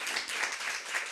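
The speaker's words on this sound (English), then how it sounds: "I think that deserves a round of applause by all means." Steady clapping from an audience in a studio talk-show setting, a dense patter of many hands held at an even level throughout without pause.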